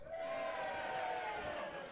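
A live crowd at a robot combat event cheers and shouts together for the winning robot, a sustained distant roar of many voices.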